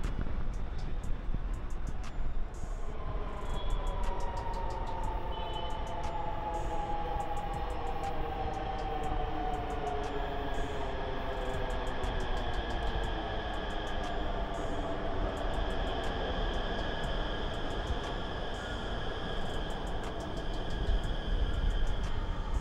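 A Namo Bharat rapid rail train pulls into a station on the Delhi–Meerut line, its steady loud rumble carrying a gliding electric whine that bends in pitch throughout, with no voices.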